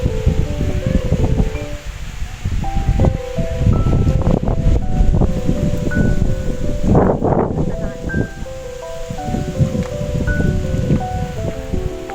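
Wind rushing through the leaves of tamarind trees beside a stone stairway at Phanom Rung temple, a loud continuous rustling with gusts and some faint background sounds, no one speaking.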